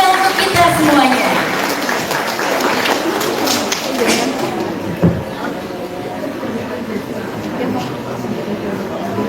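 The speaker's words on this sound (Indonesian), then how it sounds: "tepuk tangan sekali lagi yang meriah untuk kita semuanya" A hall audience claps at an anniversary celebration and workshop event: dense, sustained clapping fills the space for several seconds, loud and close, with a brief thump midway and a scattered, softer patter toward the end.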